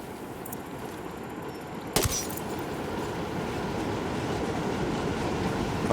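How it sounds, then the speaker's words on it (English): A freight train rolls past in the video game Ghost Recon Wildlands, a steady, dense rumble of wheels and cars filling the scene. One sharp crack cuts through early on, with no one talking. "use the cover of the train passing through to mask the sound of my gunshot"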